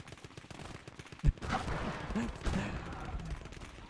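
Gunfire in the Gates of Hell World War II tank battle game: one sharp close shot, then a burst of mixed rattling fire and rumbling combat noise with a voice faintly underneath.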